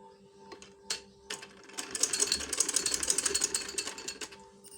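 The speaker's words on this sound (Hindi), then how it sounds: "पाइपिंग बना के इसको सिलाई लगा लेंगे" A sewing machine stitching piping onto a kurti, a steady, fast mechanical whir and chatter that builds after a few isolated clicks, fairly faint and close with no voices.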